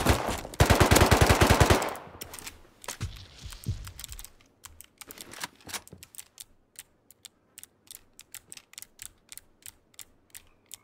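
Video game gunfire aimed at zombies opens with a loud, rapid automatic burst lasting a couple of seconds, followed by scattered, sharp single clicks and shots spread across the rest of the clip.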